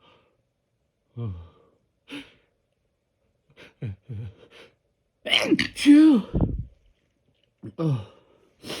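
Stifled, held-back sneezes from a person fighting the urge, with sharp gasps and a forceful half-suppressed sneeze burst in the middle, plus brief spoken thanks.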